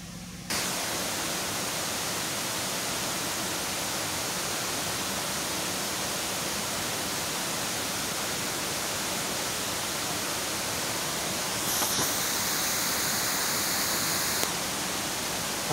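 The Guastena river rushes continuously nearby, a loud, broad, unbroken roar of flowing water that fills the whole span with no voices.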